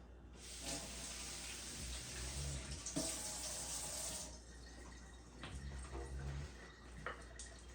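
Water runs steadily from a tap into a small fermentation airlock, a continuous splashy trickle with a few brief clinks, fairly quiet.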